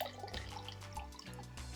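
Water poured into a glass, a short soft trickle with faint dripping, quiet and close.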